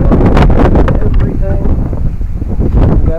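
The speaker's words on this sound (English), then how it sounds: "It's a bit windy out here today, so y'all going to have to bear with it." Gusty wind buffets the microphone in loud, rumbling bursts, with a person talking underneath.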